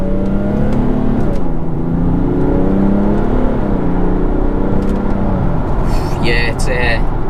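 A remapped BMW 435d M Sport xDrive twin-turbo diesel with a ZF eight-speed gearbox pulls hard after a paddle downshift, the engine note rising steadily and loudly from inside the cabin, with a brief voice near the end.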